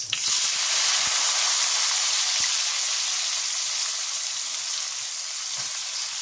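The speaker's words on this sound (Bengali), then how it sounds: "পেঁয়াজটা লাল লাল করে ভাজা হয়ে গেছে" Onions frying in hot oil with spices for a mutton curry give off a steady, close sizzle that holds at an even level for the whole stretch, with no voices.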